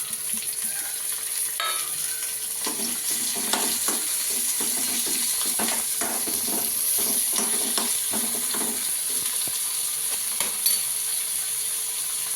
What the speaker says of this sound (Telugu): ముందైతే ఆనియన్స్ వేస్తున్నా మూడు వేసేసుకొని లైట్గా ఫ్రై చేసుకోవాలి